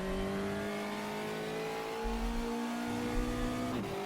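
A Copa Fusca race car engine in Reiza's Brazilian Touring Car Classics racing sim hums at steady revs, then the pitch drops sharply near the end as the throttle lifts or a gear changes. The engine plays alone throughout, with no talking.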